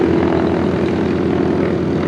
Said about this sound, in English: Plane's going to cross over between us.